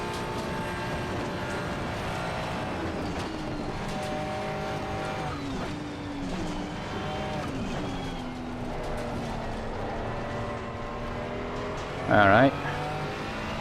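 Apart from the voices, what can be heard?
McLaren Artura race car driving on the Nürburgring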